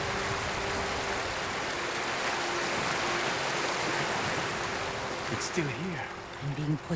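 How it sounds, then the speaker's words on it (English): A waterfall in the Ghost of Tsushima video game roars as a steady broadband rush of falling water, close and constant, with voices speaking over it toward the end. "Under the waterfall."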